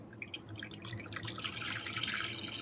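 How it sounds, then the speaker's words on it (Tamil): Melted jaggery water is poured through a filter into another vessel, making a faint, continuous trickle with dripping and splashing and no talk. "இப்போ நம்ம இன்னொரு பாத்திரத்தில் இதை ஃபில்ட்ரு பண்ணுறோம்."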